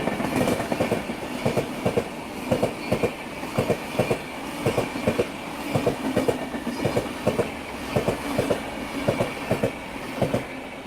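The Amrit Bharat Express runs slowly along the rails at night, with a steady rhythmic clickety-clack of wheels over rail joints under a constant rumble and no talk.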